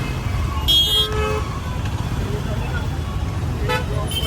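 Busy Mumbai road traffic in hot weather, with a steady engine rumble and a loud car horn blast near the start, followed later by a shorter, fainter honk; a voice speaks over the traffic.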